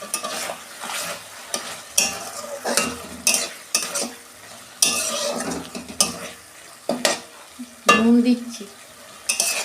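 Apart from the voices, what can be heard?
stirring and frying spices for fish curry in a pan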